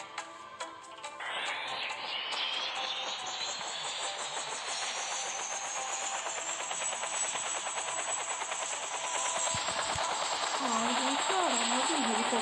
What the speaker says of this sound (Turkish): Aa, helikopter gençler.